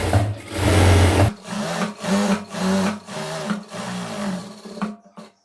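Sewing machine stitching chudidhar fabric in a tailoring class: a loud continuous run, then a series of short rhythmic bursts with brief pauses between them, ending in quiet.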